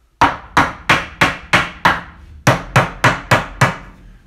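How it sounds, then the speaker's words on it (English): A hammer strikes a wood stud eleven times in a steady rhythm during basement framing, with one brief pause partway through. The blows are sharp, close and alone. "use my hammer."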